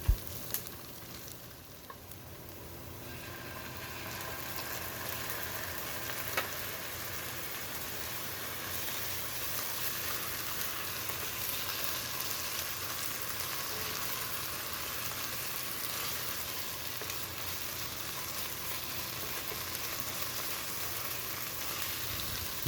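Onions with ginger garlic paste sizzle and fry steadily in a pan for mushroom biryani, a continuous close crackling hiss with occasional stirring, no talking.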